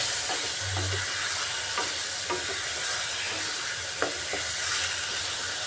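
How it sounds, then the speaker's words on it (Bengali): Potatoes and tomatoes sauté with spices in a pan, giving a steady close sizzle. Scattered scraping clicks come from stirring. "এই মশলাটা দিয়ে এখন ভালো করে কষিয়ে নিতে হবে এটাকে, আলু আর টমেটো।"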